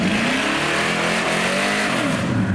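A modified Chevrolet El Camino with an exhaust bypass venting under the middle of the car, revving extra loud at a car meet in a continuous close, harsh roar.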